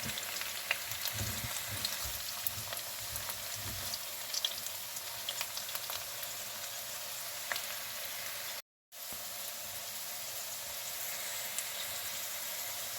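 Red potatoes and onions fry in a pan with a steady, moderate hiss, occasional spatula scrapes and pops, a brief silent dropout partway through, then the sizzle resumes.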